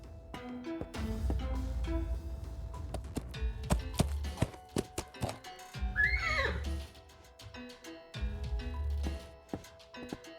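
A horse in the point-and-click game Willy Morgan and the Curse of Bone Town whinnies once mid-clip, a rising and falling neigh, among scattered hoof clops and soft thuds against a quiet ambient background.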